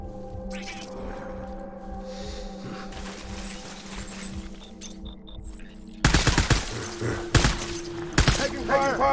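Bursts of gunfire in the video game Death Stranding, rising to loud rapid volleys in the second half over a steady low mechanical drone. Game sounds and voices blend underneath.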